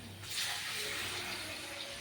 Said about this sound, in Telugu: నీళ్ళు వేసేస్తున్నా